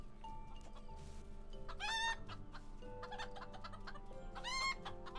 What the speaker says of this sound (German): Nicht so rumgackern.